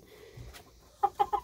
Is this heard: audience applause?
no